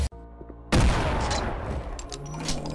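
Alt-fire gunshots from a weapon in Duke Nukem 3D sound as a sudden loud burst, then a sustained rumbling, crackling wash of shots and impacts, with faint game effects fading behind it.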